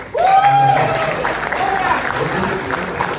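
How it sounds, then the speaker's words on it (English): Applause breaks out from an audience at an evening talk with a cricket fast bowler, a sudden dense burst of clapping and crowd noise that continues steadily, with a voice or whistle-like tone briefly rising above it early. "that goes around applause for the Indians"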